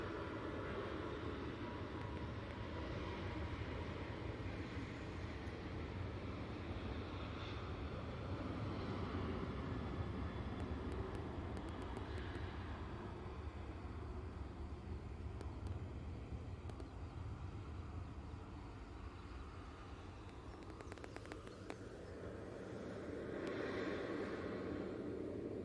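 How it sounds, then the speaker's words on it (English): A Ryanair airliner rolling for takeoff at Manchester Airport gives a broad, steady, distant engine roar that holds for the whole stretch, swelling slightly near the end, with no voices over it. "Ryanair taking the intersection. Now on the roll."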